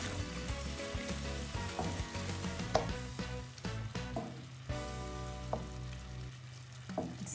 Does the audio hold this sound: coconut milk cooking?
yes